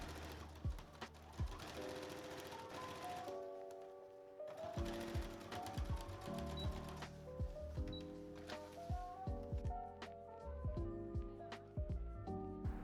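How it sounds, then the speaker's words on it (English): A sewing machine stitches down the lining along a dress neckline, running in several bursts of rapid mechanical chatter separated by short pauses, close and fairly quiet. "I'm just going to be stitching those down all across the neckline"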